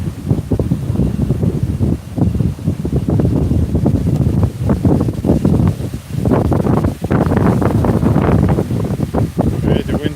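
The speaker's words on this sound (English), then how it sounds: "Alright, the wind's really whipping here." Strong gusty wind buffeting an outdoor microphone on a building ledge, loud rumbling blasts that rise and fall in waves with brief lulls and rustling in between.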